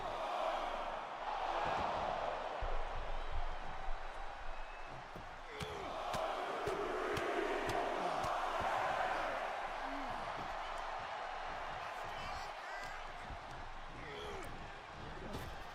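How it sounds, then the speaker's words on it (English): A wrestling arena crowd at MNW Warzone cheers and roars at a steady, moderate level while a commentator talks over it, with scattered slaps and thuds from the ring. "Oh, I can hear the crowd"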